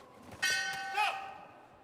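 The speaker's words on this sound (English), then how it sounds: "There goes a bell at the end of round one." A bell rings out at the close of round one in a youth boxing championship bout, a sharp metallic strike followed by a second ring, shimmering and decaying against faint arena background noise.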